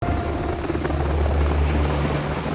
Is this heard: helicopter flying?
yes